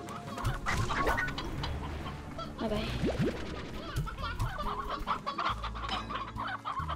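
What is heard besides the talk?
chickens clucking in Slime Rancher video game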